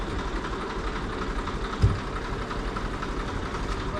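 A tractor engine runs steadily at a farm well where a pump motor is being hauled out, giving a continuous rumbling drone with one brief knock partway through and no voices.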